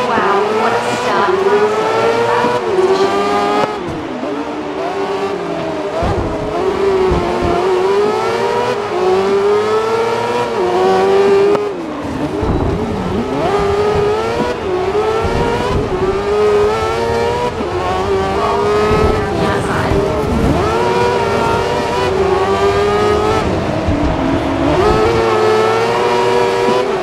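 Race cars in GRID (2019) roar off the line at a race start, several engines revving hard and accelerating together in a loud, sustained, rising wall of engine noise with shifting pitch, occasional tire squeal, and no talk over it.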